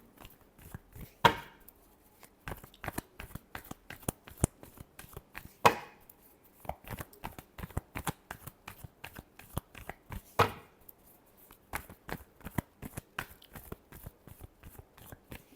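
A deck of tarot cards is shuffled by hand, giving a run of crisp, irregular card slaps and riffles with a few sharper bursts, close and fairly quiet.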